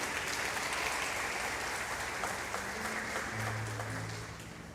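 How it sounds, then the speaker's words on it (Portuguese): A church congregation applauds during an evening sermon, giving dense, sustained clapping that fills the room and tapers slightly at the end, with a low sustained tone entering near the close. "Você pode aplaudir a Ele nessa noite?"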